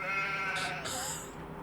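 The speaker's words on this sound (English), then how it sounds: "We've got some goats and some sheeps." A single sheep in a farming game bleats once, a short nasal wavering call that is close and clear over a faint background with no voices.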